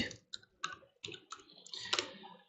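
Keyboard keys clicking as a command is typed into a computer command prompt: a series of separate taps, faster and denser near the end, close and clear, with no talking.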